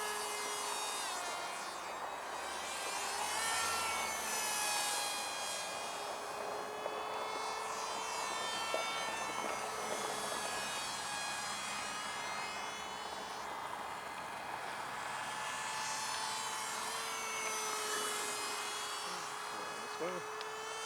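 A 1/20 scale RC MiG-19 propjet model plane flying at just over half throttle, its electric motor and prop giving a steady high whine that drifts in pitch throughout, with quiet talk nearby.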